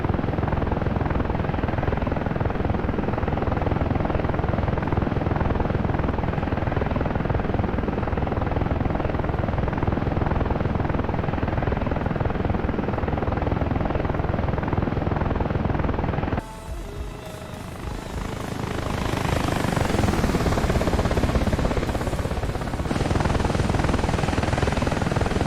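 An AH-64A Apache helicopter in flight in the DCS combat flight simulator gives a loud, steady rotor and turbine drone, dipping briefly before swelling back to full strength, with no voices.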